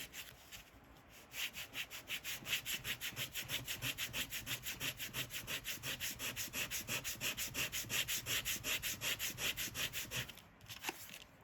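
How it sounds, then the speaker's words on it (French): A playing card being sanded by hand, steady rhythmic back-and-forth scraping strokes, fast and even for about ten seconds, close and fairly quiet, with no talking. "Donc, je vais prendre une carte. Je vais la poncer."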